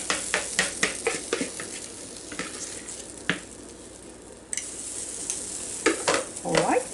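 Squash and zucchini bites fry in a pan with soft sizzling under scattered utensil clinks and stirring scrapes, a steady close crackle running throughout.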